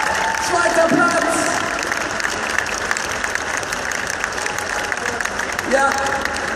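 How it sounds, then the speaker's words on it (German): Audience applause at the Gamescom 2014 Blizzard cosplay contest final, steady dense clapping from a large crowd filling the hall, with cheers and voices mixed in and a brief swell near the end. "Großer Applaus für Laura."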